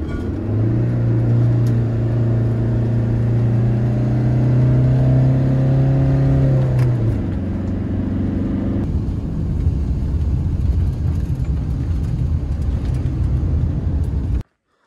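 A vehicle pulls away near a beach at Cartoe, Dorgali, Sardinia, its engine rising through revving gears then settling into a steady loud rumble of driving that runs for most of the passage before cutting off abruptly.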